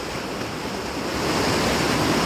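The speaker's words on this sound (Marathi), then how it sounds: "हे बघा धबधबा कसला आहे इथं." A waterfall in a forest, with heavy water flow, roars as a dense, continuous broadband rush. It is loud and close, swells slightly partway through, and no voices can be heard.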